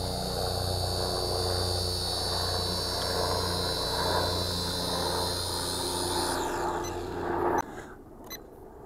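A helicopter passing overhead gives a loud, steady whirring roar that fills the air, then cuts off abruptly near the end, followed by faint clicks.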